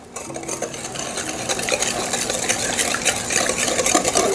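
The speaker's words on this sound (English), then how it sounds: "We're gonna just whisk all of that together." Cake batter of eggs, sugar, oil, vanilla and coffee being whisked by hand in a bowl, a steady scraping, clinking stir running continuously and growing slightly louder, with no talking.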